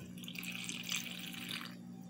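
Water pours steadily through the hole in a lid onto a covered pot of rice wrapped in grape leaves, a soft splashing trickle that stops near the end, with a low hum underneath.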